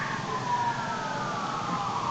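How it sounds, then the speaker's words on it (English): An emergency vehicle siren wails continuously at a distance, a faint sustained tone gliding slowly over steady road noise. "as annoying as those sirens are, they're necessary"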